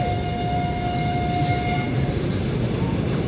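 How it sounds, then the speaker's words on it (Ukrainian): A passenger train pulls out of a station, a steady rumble of wheels and cars with a sustained tonal hum, close and continuous throughout. "забула, що Віталік уїжджає вже все в поїзді"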